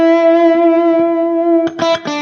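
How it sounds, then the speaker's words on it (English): Electric guitar played through a free amp simulator with a gated reverb effect: a sustained, distorted note rings steadily, then a few sharp chopped strums cut off abruptly. "gated reverb. I'm going to turn the time up and give it just a few milliseconds of pre-delay."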